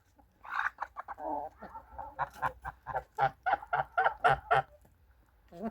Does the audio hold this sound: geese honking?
yes